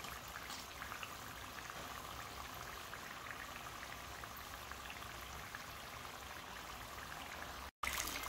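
Chicken and vegetable spring rolls frying gently over low heat, giving a steady, close hiss of bubbling oil with fine crackling throughout, broken by a brief cut near the end.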